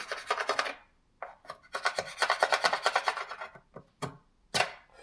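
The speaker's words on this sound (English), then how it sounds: "What we're gonna use is this to scrape off all the loose clear coat" Loose lacquer clear coat is scraped off a car panel in quick bursts of rasping strokes, dry and close, separated by short pauses, with no talking.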